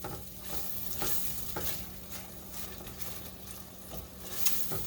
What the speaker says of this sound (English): keep mixing that around, because you do not want that garlic or the butter to burn